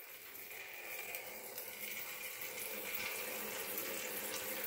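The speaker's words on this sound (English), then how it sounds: "I'll just fill him with some water" Water pours from a tap into the water dish of a DIY gopher snake enclosure, a steady, gentle trickling stream that is fairly faint and continuous, with no talk.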